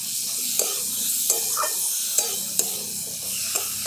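Spice paste of fennel fries with ridge gourd and potatoes in oil, a dense close sizzle with a spatula scraping and clicking against the pan every half second or so, no voices.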